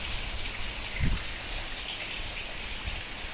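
Heavy rain pours onto a flooded courtyard, a dense and steady patter of drops splashing into standing water that stays loud and even throughout, with no voices.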